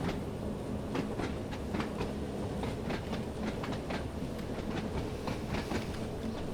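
A 1938 tube stock train running on the Isle of Wight line in Train Sim World, with a steady rumble and rhythmic clickety-clack of wheels over rail joints, continuous and fairly close, with no talk.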